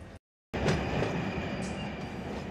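A freight train rolls past in the Run 8 Train Simulator video game, a steady loud rumble of wheels and cars after a brief moment of silence.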